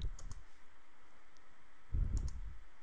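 Two short pairs of mouse clicks, one near the start and one near the end, crisp and close on a computer during shape-tween animation work, with a low thump and quiet room tone between them.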